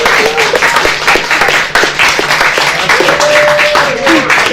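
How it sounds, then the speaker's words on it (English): An audience applauds drama club performers at a school stage show, a loud, dense stretch of sustained clapping from a crowd with some voices mixed in. "let's give them a round of applause for their bravery"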